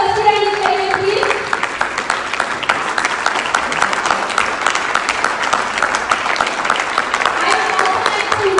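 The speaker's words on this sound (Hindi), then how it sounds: "तालियां बजती रहनी चाहिए please." Audience applause at a sponsor-recognition segment of a Chhattisgarhi cultural event abroad, a steady dense wash of clapping lasting throughout, with some crowd murmur and a faint voice over it.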